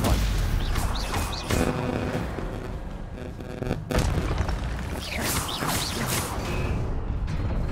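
The Stupefy spell is cast in the video game Hogwarts Legacy, giving loud booming magical blasts and impacts that run continuously through dense, busy game audio.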